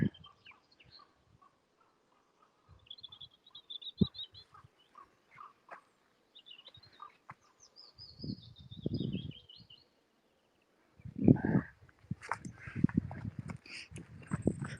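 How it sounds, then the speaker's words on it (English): On a sunny morning hillwalk, a bird that may be a grouse gives several faint, scattered calls in the distance. Footsteps and rustling come and go around the calls, and a few louder bursts of noise follow near the end. "I wonder if that was a grouse or something."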